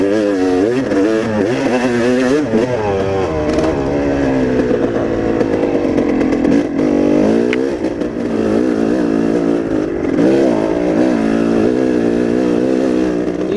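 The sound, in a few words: motorcycle engine revving while climbing a steep hill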